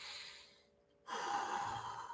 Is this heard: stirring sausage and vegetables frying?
no